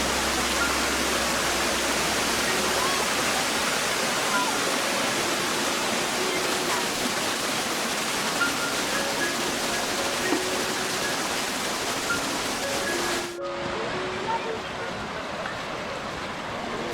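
Cascade de l'Éventail, part of the Cascades du Hérisson in autumn, roars as a steady broadband rush of falling water that fills the clip, then cuts abruptly to a slightly quieter wash near the end.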